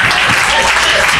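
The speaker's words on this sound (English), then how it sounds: "clap your hands and praise the Lord." A church congregation at an Apostolic service claps their hands in a dense, continuous wash, loud and close for a brief moment.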